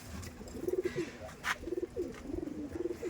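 Madrasi tournament-quality pigeons coo in a steady repeated series of low throaty bursts, several rounds of rolling coos with short pauses between, fairly close and clear, with a brief sharper noise in the middle.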